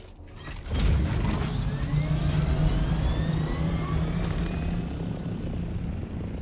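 Steady mechanical whirring and rotor drone of a helicopter in the video game Dune: Awakening, loud and continuous after a brief start, with faint rising whines over it.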